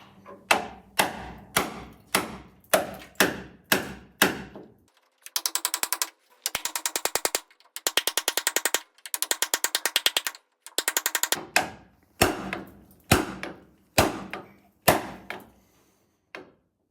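A ratchet wrench works at a hinge bolt on a Land Rover bulkhead, heavy clanking strokes in a steady rhythm alternating with bursts of rapid fine pawl clicking as the handle swings back, close and loud, no speech.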